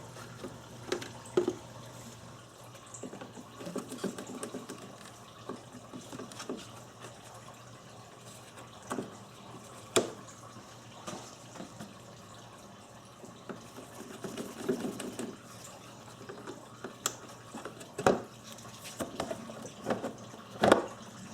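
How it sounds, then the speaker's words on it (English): Coolant drains from a Subaru radiator during a water pump replacement, with intermittent splashing and trickling over a low steady hum, punctuated by occasional clanks and knocks. "Just remove this screw, and this will drain the fluid"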